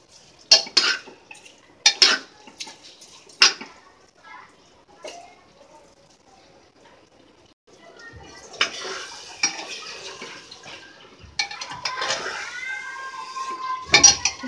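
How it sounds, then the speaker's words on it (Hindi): Rice frying with spices for a vegetable pulao in a pressure cooker pot, with a spoon scraping and clanking against the metal in bursts, close and clear, and a low sizzle between the strokes. "चावल को भी हम कम से कम 2 मिनट तक भून देंगे।"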